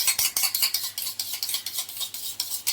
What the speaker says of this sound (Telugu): ఇప్పుడైతే మనం కొంచెం చూడండి ఇలా బాగా గిలకొట్టుకోండి, పెరుగు